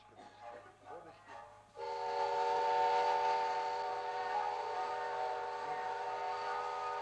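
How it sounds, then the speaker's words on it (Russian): A train approaches in a film scene, its steam whistle sounding in one long sustained blast after a quieter opening with some faint talk, loud and close, holding steady to the end. "Мама, поезд идет, поезд идет!"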